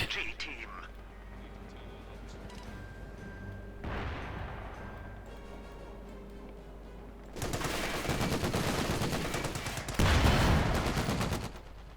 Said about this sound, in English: Switching out to incendiary rounds.